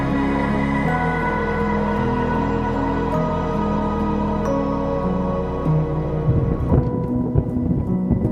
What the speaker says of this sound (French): Alors que l'orage gronde sur le désert namibien